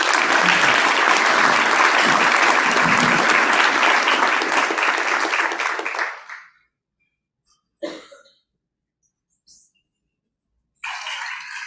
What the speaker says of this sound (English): Let's give them a round of applause as they make their way.